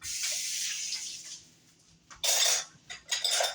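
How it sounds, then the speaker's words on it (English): A spoon clinks and scrapes in a bowl while stirring a sauce sweetened with brown sugar, giving a few close, irregular bursts of stirring sounds with quieter gaps between them. "And I'm going to give this a mix"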